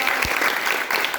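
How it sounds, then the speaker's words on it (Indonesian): A class of sixth-grade primary school students claps loudly and briskly for a classmate, a short burst of close applause in a classroom. "Tepuk tangan buat Excel."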